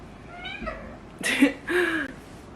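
A cat meows several times in a row, close by, each call rising and falling in pitch against a quiet room.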